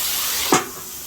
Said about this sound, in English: Use my last splash of water.